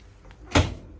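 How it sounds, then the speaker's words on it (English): A single sharp door clunk from a 2015 Vauxhall Vivaro 1.6 CDTi panel van with an extra security lock as it is opened, a brief close thump standing out against quiet surroundings. "Open up the vehicle."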